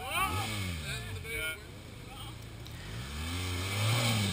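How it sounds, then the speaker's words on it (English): A BMW 1200 GS Adventure motorcycle engine revs hard under throttle, its pitch climbing and falling in repeated sweeps, close and loud, with a steady drone between pulls. "Then it was Serge's turn on the 1200 GS Adventure, and he was not shy with that throttle one bit."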